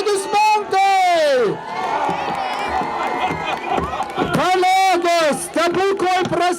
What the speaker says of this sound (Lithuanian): Gausūs aplodismentai!